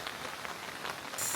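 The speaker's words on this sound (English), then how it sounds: "but it is really raining" Heavy rain in Puerto Rico patters steadily around an umbrella, a dense and even hiss of drops that lasts throughout, with a brief brighter spatter at the very end.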